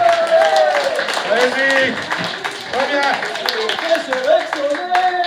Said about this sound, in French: Bien, monsieur, vous pouvez l'applaudir.